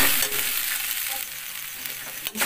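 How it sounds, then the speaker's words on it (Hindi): Poha is stir-fried in a pan, with a bright steady sizzle and scraping of a spatula moving it around, close and continuous, ending in a quick clatter. "और दो तीन मिनट तक इसको ऐसे इसी तरह से भूनते रहना है।"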